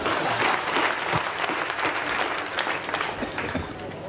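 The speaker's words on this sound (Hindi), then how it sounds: "मुझे ताली बजाना पड़ेगा" An audience at a large public gathering in Calicut, Kerala breaks into loud, dense applause, many hands clapping together in a brief, full burst close by.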